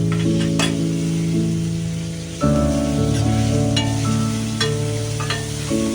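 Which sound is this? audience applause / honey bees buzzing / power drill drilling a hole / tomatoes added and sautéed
tomatoes added and sautéed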